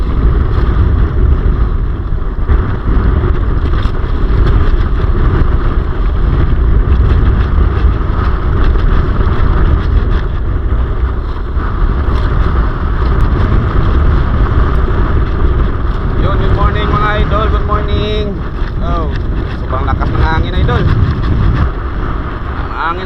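Strong northeast monsoon wind buffeting a fishing boat at sea during lobster net fishing, a constant loud roar of wind and rumbling engine with a voice speaking faintly over it toward the end.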